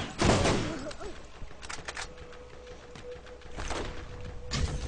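Gunfire from shooting at a circling enemy in the video game Borderlands, several bursts of rapid shots spread across the moment, fairly loud, with some game background noise between volleys.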